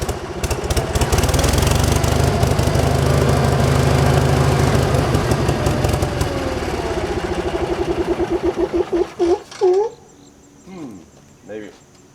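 A gasoline engine fed by an electric fuel pump drives a Frick sawmill slab cutoff chop saw. It chugs loudly and steadily, then begins to stumble into uneven, sputtering bursts and dies away near the end.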